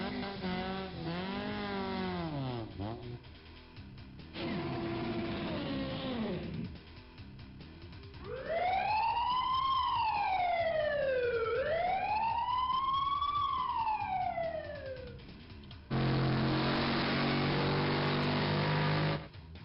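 Several monster truck calls from the video game Monster Truck Madness play one after another: wavering siren-like wails and rising and falling electronic sweeps, then a harsh buzzing burst at the end, all loud and close with no talk.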